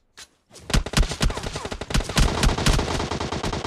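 Rapid automatic gunfire in the mobile battle royale game PUBG Mobile, loud dense bursts of sharp shots after a brief opening crack, continuing without pause to the end.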